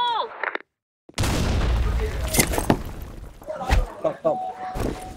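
A grenade blast in the online shooter BlackShot during a clan war bursts in loudly after a brief silence, followed by scattered gunfire-like cracks. Players talk over the action.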